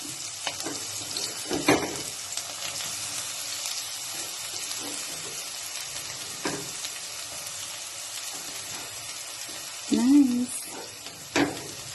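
Sliced onions and green chillies frying in a pan while cooking pasta, a soft continuous sizzle with occasional sharper spatters and stirring clinks, with a voice briefly heard near the end.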